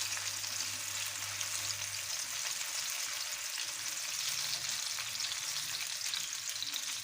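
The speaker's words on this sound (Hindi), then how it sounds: "1 से 2 मिनट दोनों साइडों से इसी तरह आपने इसको फ्राई करना है" Chicken gola kebabs fry in a pan with a steady, dense hiss of sizzling oil, close and constant throughout with a faint low hum beneath, no talk.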